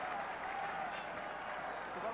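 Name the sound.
crowd at Leinster v Exeter rugby match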